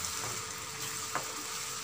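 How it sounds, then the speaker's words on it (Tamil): Onion-tomato paste sautéing in oil for a Chettinad prawn masala gravy, giving a steady, close hiss and sizzle with a brief stir scrape midway and no voices. "இந்த வெங்காய தக்காளி விழுது நல்லா வதங்கணும் எண்ணெயிலேயே நல்லா வதங்கி வர வரையும் நல்லா வதக்கி விட்டுக்கலாம்"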